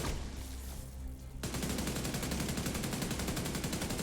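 Enemy automatic gunfire in The Division 2, starting with a sudden loud burst and then a steady rapid stream of shots at close range, with no talking.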